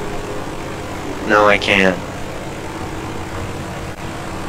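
Continuous propeller-plane engine drone in the video game Battlefield 5, a loud steady hum running throughout while a player briefly speaks over it.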